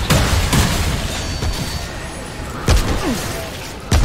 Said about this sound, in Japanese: なんで爆発するのか分かんないんだよ。